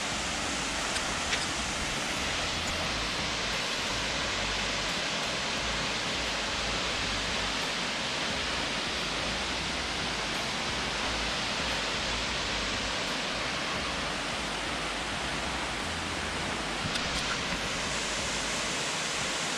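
A local waterfall roars as a broad, constant rush of falling water, steady and moderately loud for the full stretch with no voices over it.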